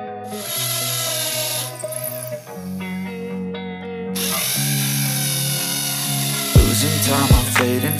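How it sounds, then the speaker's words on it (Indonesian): A power drill with a masonry bit whines steadily for several seconds as it bores into concrete, its pitch shifting as the speed changes, with a couple of sharp knocks near the end. "langsung kita bor memakai mata bor beton"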